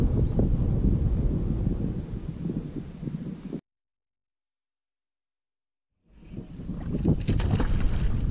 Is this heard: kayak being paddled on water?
yes